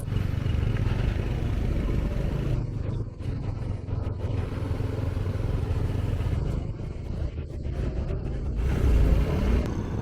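An oversized heavy transport truck hauling two huge machines up a treacherous mountain road, its engine a low, continuous rumble that surges and fades with clattering noise over the ten seconds.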